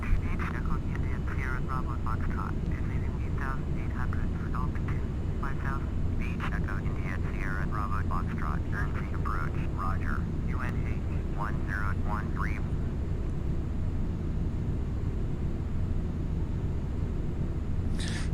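Airbus A321 cruising in the FSX flight simulator over the Channel Islands, a steady engine drone throughout with a rapid series of cockpit beeps and tones over the first two-thirds, and a person talking.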